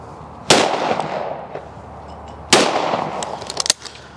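A Miroku 6000 shotgun fires two loud, sharp blasts about two seconds apart, each fading into a short echoing tail, followed by a few smaller clatters.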